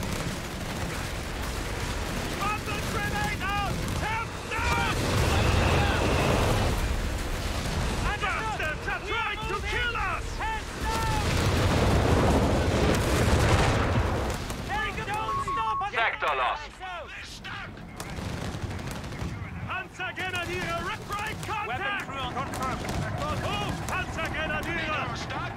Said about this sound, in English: Machine gun is targeting us!